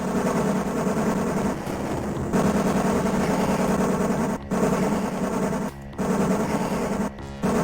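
Continuous rapid machine-gun fire from an arcade classic video game, a dense loud rattle over game music, broken by three brief gaps.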